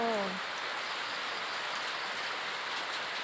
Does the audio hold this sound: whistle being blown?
no